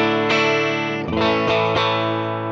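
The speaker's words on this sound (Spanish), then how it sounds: "voy a dejar activado lo que es el amplificador, el IR y una reverb chiquita." Electric guitar played through a Hotone Ampero II Stomp amp model with cabinet IR and a small reverb: sustained distorted chords struck about four times, loud and close, ringing with a short reverb tail, no talking.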